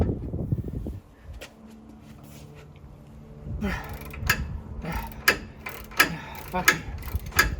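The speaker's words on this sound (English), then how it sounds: "Keep wrenching." A hand wrench ratchets on a Ford Excursion during a 6-inch lift build, giving a run of quick, regular metallic clicks that grow louder toward the end, following a brief spoken outburst and a quiet stretch.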